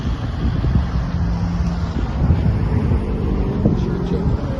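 Wind buffets a street in Killarney, a steady low rumble that stays loud and constant throughout, with faint traffic-like noise underneath.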